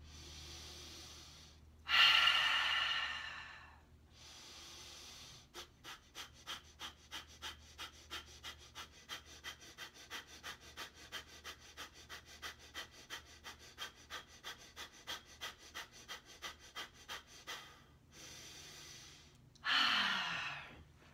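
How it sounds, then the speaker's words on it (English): Breath of fire, a yoga bellows-breathing exercise: a long, steady run of about thirty quick, evenly spaced forceful nasal exhales, framed by a deep inhale before and a big exhale after. "let me show you this breath of fire first, and then I will teach it to you"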